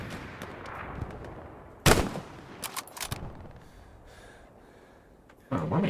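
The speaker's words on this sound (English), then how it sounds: "Someone's shooting at me" Gunfire in the WWII shooter Hell Let Loose, a few sharp, fairly close shots cracking out at intervals with quieter bursts between, over a low ambient battlefield backdrop.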